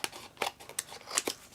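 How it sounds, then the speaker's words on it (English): Big scissors cutting down the side of craft paper, a series of short crisp snips in an uneven rhythm, close up and alone. "And then I'm going to get my big scissors and we'll just cut down this side."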